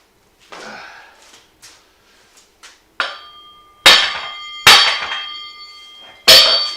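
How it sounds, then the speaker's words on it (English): A big sledgehammer swung in a garage: a few light knocks, then three heavy, close strikes with a bright metallic ring that decays between blows. "Big sledgehammer."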